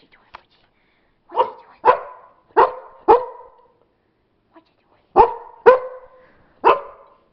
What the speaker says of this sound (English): There's the other dog.